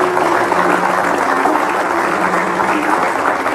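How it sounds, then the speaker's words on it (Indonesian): Sustained audience applause fills a studio talk-show set, a dense steady wash of many hands clapping at an even level throughout, with no one speaking over it. "asyik tepuk tangan dulu"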